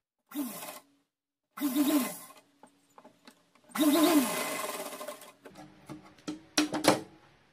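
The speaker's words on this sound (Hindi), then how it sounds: "लगभग वन फोर्थ इंची पर हम यहाँ से सिलाई लगाएंगे और दो इंची तक लगाएंगे" A sewing machine stitches fabric for a heavy Diwali outfit for a Kanha ji idol, running in three main bursts of rapid whirring with a few short stitching spurts between and after.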